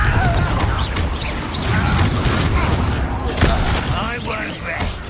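Confringo fire-blast spell being cast in Hogwarts Legacy, a loud, dense combat barrage of booms and crashes that continues throughout, with voices in the battle.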